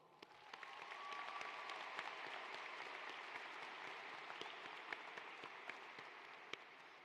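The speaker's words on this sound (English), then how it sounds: "so round of applause" Audience applause at a university commencement ceremony, a broad steady wash of clapping from a large crowd that swells in and holds loud throughout, with sharper individual claps standing out.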